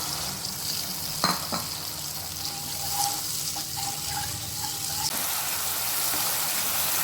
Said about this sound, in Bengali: একটু জল দিয়ে আমি এটাকে ভালো করে কষিয়ে নেব।